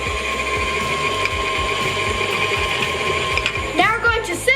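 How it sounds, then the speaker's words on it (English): An electric mixer whips butter until fluffy, a steady whirring motor with rhythmic beater clatter against the bowl, close and loud, with a brief rising whine near the end. "Let's whip our butter first. We're gonna mix it until it's nice and fluffy."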